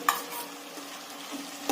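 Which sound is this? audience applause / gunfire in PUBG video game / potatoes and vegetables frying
potatoes and vegetables frying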